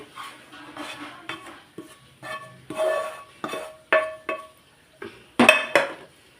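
Wheat burfi mixture is scraped onto a ghee-greased plate, with a series of close metallic clinks and scrapes of a spoon against the dish, arriving in short irregular bursts.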